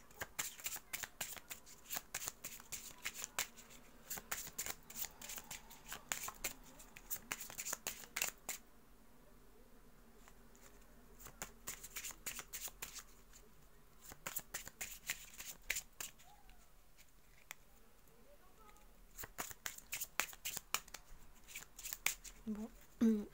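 Playing cards are shuffled in quick crisp riffling bursts and then drawn and laid down, repeating several times at close range, while someone speaks French quietly between the shuffles.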